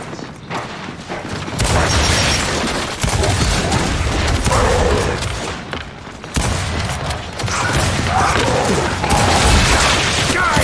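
Grenade blasts and bursts of gunfire in the video game Gears 5, loud repeated booms and rattling shots in dense waves, with a shout cutting through the combat.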